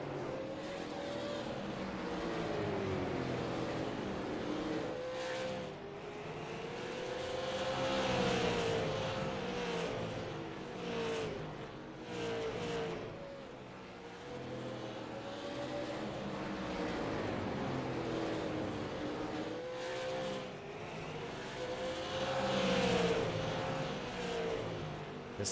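Race cars circling the track at Southern National Motorsports Park in a super series event, engines roaring and swelling as they pass in waves, moderately distant.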